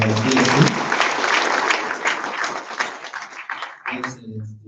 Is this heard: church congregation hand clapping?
yes